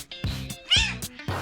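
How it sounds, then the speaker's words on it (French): A house cat meows insistently, several short close calls in a row, some drawn out and rising, with no other sound between them. "Ah, mais t'arrêtes de miauler"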